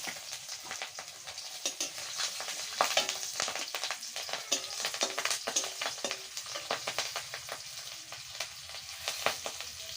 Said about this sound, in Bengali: দিয়ে দিলাম গোটা জিরে চারটে রসুনের কোয়া আর পাঁচটা লঙ্কা কাঁচা লঙ্কা ফোরনে দিয়ে দিচ্ছি